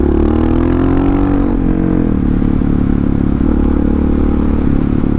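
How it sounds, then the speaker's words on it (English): A Honda XR650R long-stroke single-cylinder supermoto engine thumps loud and close with a steady, slightly hunting throttle under wind noise. "The thumper, the long stroke thumper sounds really good, great."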